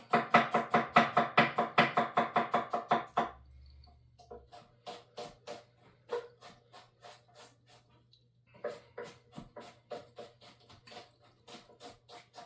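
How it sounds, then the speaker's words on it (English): Knife rhythmically chopping garlic and ginger root on a cutting board for curry shrimp: a rapid steady run of crisp taps, a short pause, then slower uneven chops, close and fairly quiet. "While that's melting, I'll chop the garlic and the ginger root."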